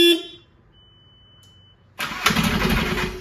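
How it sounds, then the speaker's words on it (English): A VW GTI with a 2-litre PD diesel engine cranks and fires up: a brief noise, a quiet pause, then the engine catches loudly and settles into a rough, steady idle close by. "We're gonna fire up the GTI today."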